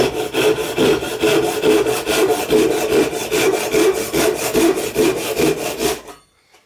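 Close, loud strokes of a Japanese hand saw with coarser, wider-set teeth cutting through wood, in a steady back-and-forth rhythm of about twenty rasping passes that ends abruptly in silence.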